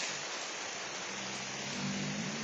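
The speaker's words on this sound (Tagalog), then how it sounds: "Dito, inulan tayo, inabot tayo ng ulan, oh." Rain falls steadily during a motorbike ride toward Kaybiang Tunnel in the Philippines, a dense constant hiss mixed with wind rush and a faint low engine hum underneath.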